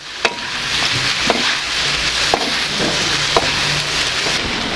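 Sac kavurma with spices is stirred in a cast iron pan over a steady loud sizzle, with a few sharp metallic taps spaced about a second apart.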